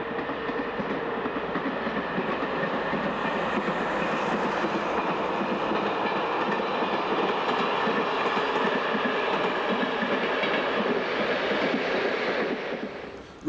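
A train runs along the Douro Valley railway line in Portugal, beside the Douro River, with a continuous rumbling roar and rapid wheel clatter that stays loud and even for about thirteen seconds before briefly dropping off.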